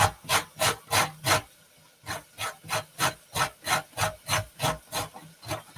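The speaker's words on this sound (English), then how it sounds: "So you put it on the big grater, the big one like that, and you just grate." A cauliflower rubbed against the coarse side of a big kitchen grater, giving a steady run of about fourteen close, loud rasping strokes in an even back-and-forth rhythm, with one short pause near the start and no talking.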